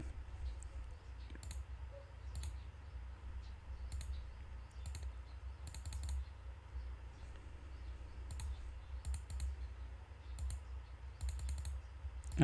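Intermittent keyboard clicks come in short bursts over a steady low hum, as someone types a take-profit value into a trading platform; the keystrokes are fairly quiet and irregularly spaced, with no talking.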